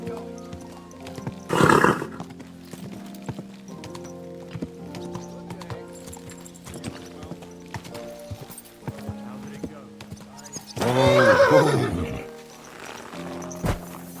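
A horse whinnies loudly twice amid a steady clip-clop of hooves in the video game Kingdom Come: Deliverance II, with faint synthetic background tones throughout.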